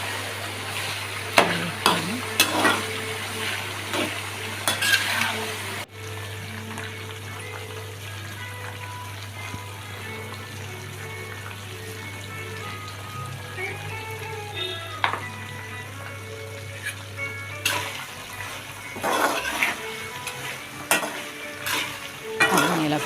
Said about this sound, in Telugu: ఇలా ఫ్రై వరకు బాగా కలుపుకుంటూ ఉండాలండి, మాడిపోకుండా.